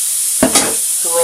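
Frozen mixed vegetables sizzling loudly in a hot frying pan while being stirred, a bright steady hiss with a couple of quick scraping stirs close up.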